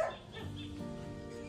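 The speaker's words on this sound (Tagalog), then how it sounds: "Huwag tahol-tahol." A dog at an old farmhouse gives a short bark or yip at the very start, followed by low background noise with no further barking.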